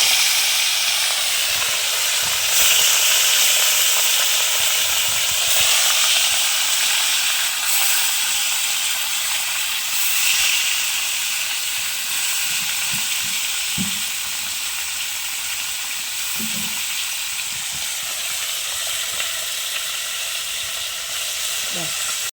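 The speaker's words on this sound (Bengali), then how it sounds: "গরম হয়ে গেছে, এখন মাছটা ছেড়ে দেবো।" Fish frying in hot oil in a black wok, a steady close sizzle and hiss running the whole time, with occasional crackles and spatters.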